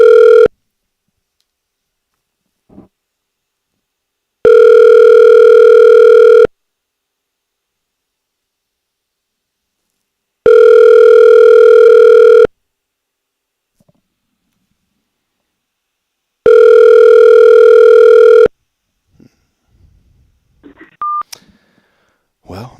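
A telephone rings on an unanswered call, three long loud electronic rings spaced evenly with silent gaps between, followed by faint clicks and a short beep.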